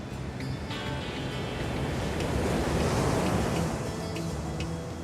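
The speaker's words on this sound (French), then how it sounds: "Ici, les alizés soufflent 10 mois sur 12. Ils remuent l'océan" Trade winds and rough ocean surf on an arid Cape Verde island, a continuous loud, broad roar of wind buffeting and crashing waves with no pauses.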